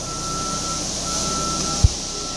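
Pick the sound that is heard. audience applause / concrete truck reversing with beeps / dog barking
concrete truck reversing with beeps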